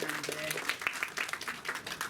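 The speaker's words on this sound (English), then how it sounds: "Give it a round of applause." An audience claps briefly for a panel at the end of a Q&A event, a short burst of applause with a voice speaking over it.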